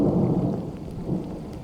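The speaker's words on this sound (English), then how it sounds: "Storm's now going off into the distance," Thunder from a storm moving off to the east rumbles low and heavy in the distance, a continuous deep roll that slowly fades, with faint rain in the background and no voices.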